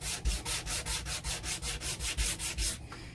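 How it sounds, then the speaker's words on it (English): Hand sanding of a wooden Mossberg 500 shotgun stock with 120 grit sandpaper, heard as about a dozen rhythmic back-and-forth rasping strokes, close and loud, before stopping near the end. "Right now I'm using 120 grit to get a nice smooth finish on it."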